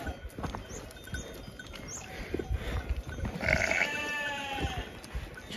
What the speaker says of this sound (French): Salut les moutons.